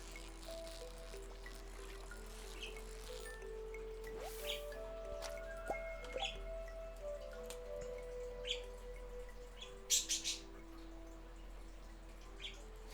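Soft birds chirp in Stardew Valley, faint and scattered over a low steady hum, with a few brighter chirps near the end.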